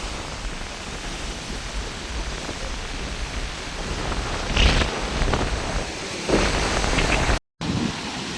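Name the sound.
storm waves crashing onto the shore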